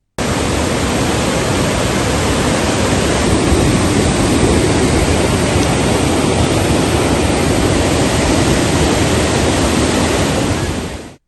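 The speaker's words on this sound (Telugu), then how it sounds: "నిన్నటి వరకు ఎండిపోయి కళావిహీనంగా ఉన్న ప్రాంతమంతా జల సవడులతో సందడి చేస్తోంది." Rain-swollen waterfall and stream in north Telangana after torrential downpours, a steady, loud, broadband roar of rushing water that holds evenly for about ten seconds with no voices.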